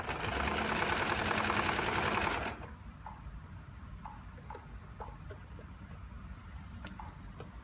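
A sewing machine stitches fast in a loud, even whir for about two and a half seconds, then stops, followed by quieter scattered clicks and handling sounds.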